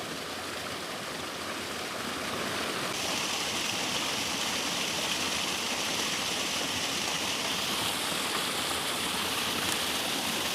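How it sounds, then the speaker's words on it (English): Steady rushing water of a creek flowing near a waterfall, heard from a spot standing in the middle of the stream, a dense continuous broadband roar that stays even and close throughout with no voices. "I'm literally standing in the middle of this creek."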